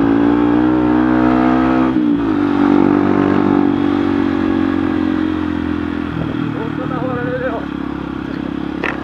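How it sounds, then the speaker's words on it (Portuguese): Motorcycle with a newly installed aftermarket exhaust roars loudly nearby, its pitch dipping and climbing with a rev around the middle, while someone talks over the engine. "Mudou muito o ronco, mano."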